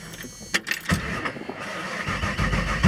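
A hot-soaked 1955 Chevrolet Bel Air two-door hardtop resto-mod starts up close by: clicks and a short crank, then the engine catches and settles into a rough, rumbling idle.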